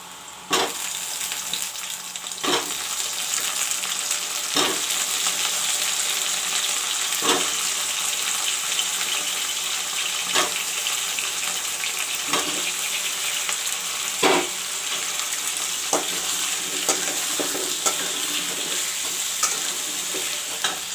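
Potatoes fry with browned onions in a pan for a drumstick curry, a loud continuous sizzle punctuated by regular sharp clacks of a utensil stirring against the pan.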